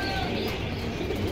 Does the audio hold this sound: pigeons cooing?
yes